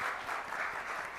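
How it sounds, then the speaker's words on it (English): A lecture audience breaks into loud, sustained applause, a dense wash of many hands clapping with no pauses and no voices over it. "let's give Dean Felicia Rashad a round of applause"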